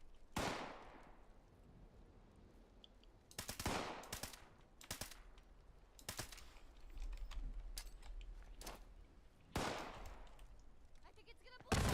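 Gunfire in the game Fallout 76 rattles out in sharp, loud bursts and single cracks, spread irregularly across the stretch with quieter gaps between them.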